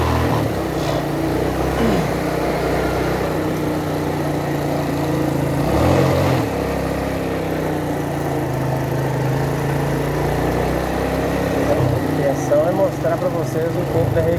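A motorcycle engine idles steadily and close by through the whole stretch on a ride around the Botafogo neighbourhood, with a low continuous rumble and faint background bustle.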